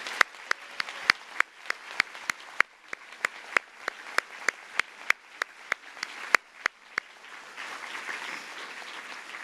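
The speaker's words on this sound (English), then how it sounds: "Let's give them one more round of applause." Applause at a 2015 Women of Innovation awards ceremony: a few loud, separate claps ring out in a steady rhythm, then a softer spread of clapping from the crowd fills the last seconds.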